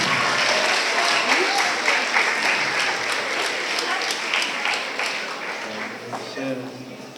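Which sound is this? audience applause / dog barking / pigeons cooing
audience applause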